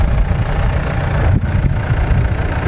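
A low, rumbling engine of a Mitsubishi Pajero 2 SUV idles steadily nearby, with a brief dip in the middle, heavy and continuous throughout.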